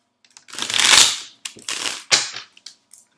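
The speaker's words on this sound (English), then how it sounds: "One more shuffle." A deck of tarot cards is shuffled in a few quick, crisp riffling bursts, close and alone.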